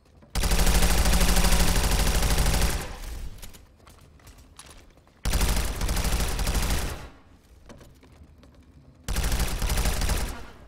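A Corvus gun fires in PlanetSide 2 in three long, loud bursts of rapid automatic fire, separated by short quieter gaps, close and dominant throughout.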